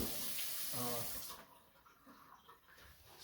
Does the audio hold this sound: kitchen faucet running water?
yes